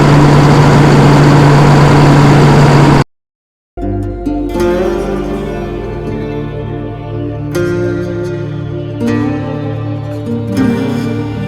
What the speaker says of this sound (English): this is our one and only tractor